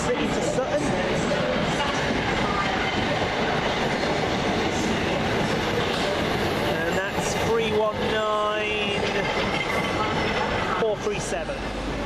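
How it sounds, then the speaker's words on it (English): A Thameslink train on the St Albans City to Sutton service at Farringdon, heard as a continuous loud rumble with a burst of rhythmic wheel clatter and faint squealing tones partway through. "the 1723 can be a Thameslink service from St Albans City to Sutton"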